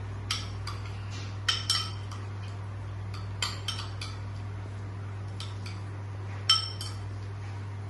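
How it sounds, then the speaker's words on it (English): A utensil mixes ingredients in a bowl with scattered, sharp clinks and scrapes, a few clustered strikes spaced over several seconds, close and fairly quiet above a steady low electrical hum. "Quickly mix everything together."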